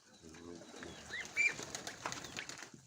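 Mykolaiv pigeons coo softly in a loft, with a brief burst of wing flapping near the middle and scattered faint chirps, all low in level.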